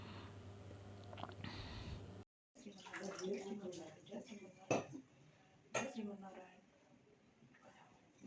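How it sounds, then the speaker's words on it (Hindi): Water is poured over a small Krishna idol during a home bathing ritual, with splashing and occasional metallic clinks of vessels, while someone talks over it. "तो मैं कान्हा जी को इसी तरीके से नहलाती हूँ।"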